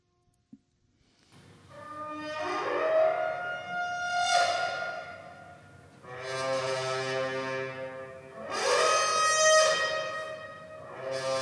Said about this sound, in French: c'est un son de sirène en fait.